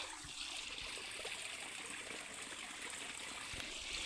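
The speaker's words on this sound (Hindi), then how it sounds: "ये पानी गिर रहा है यहाँ पे, और बहुत प्यारी आवाज़ है" Water falling steadily near a dirt path close to a house, a soft continuous rushing and trickling stream sound held at even, moderate level throughout with no voices.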